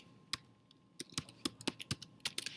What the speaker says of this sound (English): I'm going to type my topic